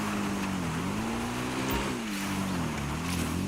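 The Zentorno supercar's engine in GTA 5 Online gives a steady, loud droning hum whose pitch rises and dips slightly, with no talk.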